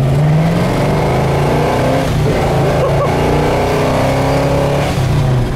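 A big-block 1966 Chevelle accelerating hard on the road, its loud, throaty engine climbing in pitch through the gears, heard close and continuous from inside the car.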